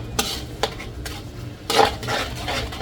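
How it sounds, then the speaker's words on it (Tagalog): Crab is stirred with pepper, salt and paprika in a pan, giving a few sharp scraping clinks of a utensil against metal followed by a longer scraping stir over a faint sizzle, close and without talk. "halu-haluin lang natin hanggang sa ma-incorporate lahat ng ingredients na nilagay natin"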